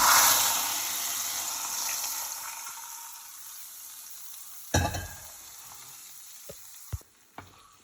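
A sizzling tempering of mustard seeds, curry leaves and dried chillies goes into a bitter gourd curry. A loud, crackling hiss fades steadily over several seconds, followed by a few sharp utensil clinks in near silence.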